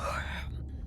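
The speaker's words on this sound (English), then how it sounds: "Was that a yawn?" A video game character in Beyond Blue lets out a brief, breathy yawn up close, a soft airy exhale that tapers off into quiet within a second.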